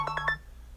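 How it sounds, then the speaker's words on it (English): Three quick telephone tones beep in rapid succession, faint and brief, before fading into quiet background hum. "That was a phone call, y'all."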